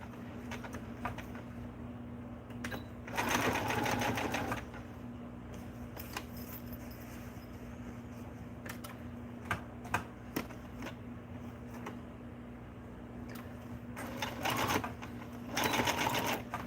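A sewing machine at a home sewing table runs in several bursts of rapid mechanical stitching, with quieter ticks and clicks between runs over a low background hum.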